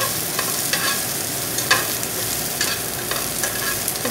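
Misua noodles are stir-fried in sesame oil over a high flame, giving a close, crackling sizzle broken by repeated scraping and tossing strokes from the utensil in the pan.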